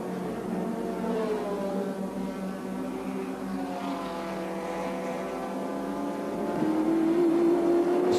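A Holden Commodore touring car racing at Lakeside in the 1983 Australian Touring Car Championship, its engine droning steadily and loudly, then rising in pitch and growing louder near the end.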